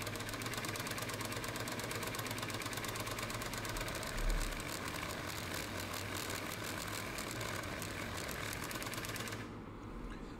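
A chainstitch embroidery machine runs steadily, a fast, even mechanical clatter of stitches repeating without pause for about nine seconds before stopping abruptly, close and continuous with no voices.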